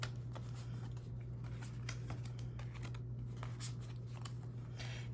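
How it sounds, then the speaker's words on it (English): Steady riffling and soft slapping of a light-cardstock tarot deck being shuffled by hand, close and continuous, over a low constant hum. "This deck shuffles really well."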